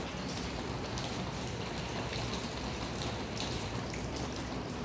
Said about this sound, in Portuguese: Galera, vocês querem ver o barulho de chuva? Tá dando uma chuva muito forte aqui